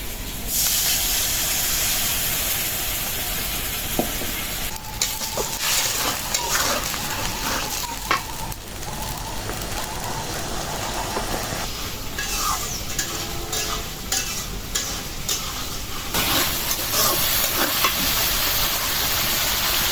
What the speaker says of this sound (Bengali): মশলাটা একদম ভাজা ভাজা হয়ে গেছে এখন একটু পানি দিয়ে কষাবো